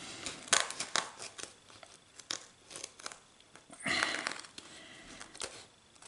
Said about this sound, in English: These scissors were sharp when I started, but okay, they're just covered in glue now.